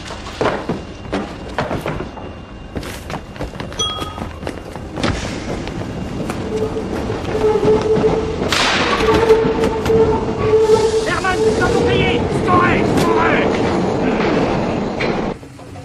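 Metro train running in Paris, a steady rolling rumble with rail clatter and rising screechy squeals, heard close from inside the carriage with brief voices over it.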